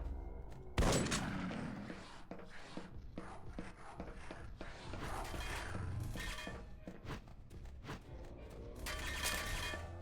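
Gunfire in the E.Y.E.: Divine Cybermancy video game striking cover, with a sharp impact near the start followed by scattered bursts of shots and thuds of varying loudness over about ten seconds.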